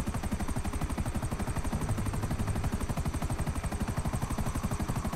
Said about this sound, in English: Now those two helicopters are behind me,